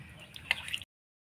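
Water drips and splashes while a stone grinding slab is washed, a short run of close wet droplets with a couple of brighter splats, then silence.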